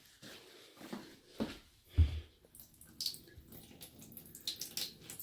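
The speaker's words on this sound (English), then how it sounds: "Well, it's barely dripping anymore" Water trickles and drips sparsely from a water heater tank drain, faint irregular drops and soft splashes with a few louder plops against quiet background.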